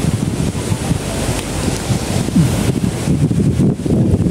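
Loud, steady wind buffeting the microphone with a constant low roar, rushing on without pause throughout, in the high Himalayan region of Nepal near the Budhi Gandaki river and the China border.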